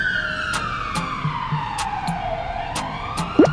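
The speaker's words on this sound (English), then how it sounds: "Police cars have flashing sirens" Wailing police car siren sweeping downward in pitch, loud and continuous, with a few sharp clicks and no voices over it.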